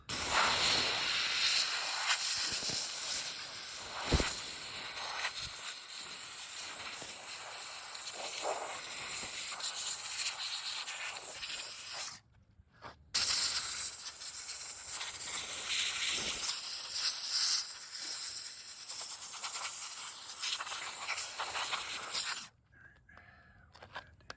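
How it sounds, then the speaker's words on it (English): A steam cleaner pistol, its nozzle removed, hisses loudly and steadily during a Chevy Volt wet-carpet repair, running in two long bursts that each cut off abruptly into near silence. "Pop the nozzle out, so you basically got the steam pistol."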